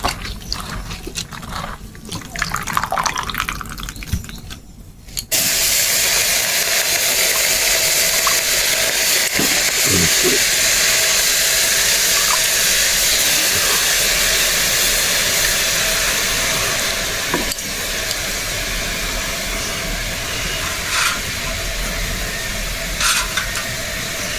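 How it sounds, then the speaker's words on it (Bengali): Washed cabbage boils in a pot of water, a loud continuous bubbling roar that starts abruptly after a few seconds of quieter clatter and holds steady, close and unbroken. "তাই মুই বাঁধাকপিলা ধুয়ে মুই একটু সিদ্ধ করি নিমু"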